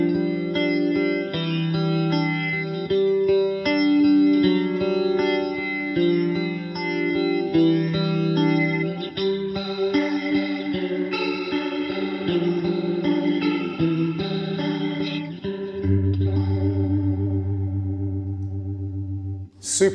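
Electro Harmonix Lester K rotary speaker pedal on its slow setting, shaping sustained guitar chords and notes with a gentle swirling, chorus-like warble, ringing out loudly and continuously with no talk.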